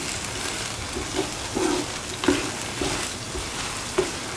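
Plantain and shallots sizzle gently as they are sautéed and stirred in a pan, a soft steady frying hiss broken by several brief scraping knocks of the spoon.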